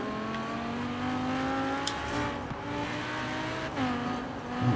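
A BMW M6 Coupe drift car gathers speed with a steady engine drone that rises in pitch, drops at a shift and climbs again, heard close and continuous with no talking.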